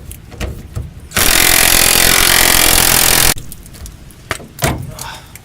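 Power tool backing off rusted bolts on the fuel tank of a 1995 Ford F150: a loud, steady burst of about two seconds, with quieter clanking and handling of tools and parts before and after.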